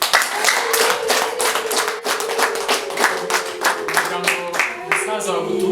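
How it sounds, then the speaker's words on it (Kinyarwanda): Applause at a dowry ceremony, with a crowd clapping in brisk, continuous rhythm close by while a voice carries on over the claps. "mumpera amashyi"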